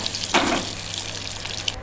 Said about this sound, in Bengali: ডিমগুলোকে আমি বেশ লাল লাল করে ভেজে নিয়ে তুলে রাখবো।